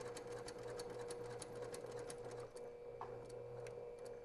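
A sewing machine runs steadily while stitching the corner of a quilted bag, its fast mechanical whir and ticking needle continuous and close, briefly pausing partway through before resuming.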